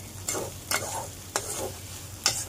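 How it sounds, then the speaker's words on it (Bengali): Data greens fried with coconut in oil are stirred in a pan, giving four distinct scraping strokes at uneven intervals over a soft, steady sizzle, close up with no talking. "শাক ভাজাটা হয়ে গেছে, তেল ছেড়ে দিয়েছে শাক থেকে"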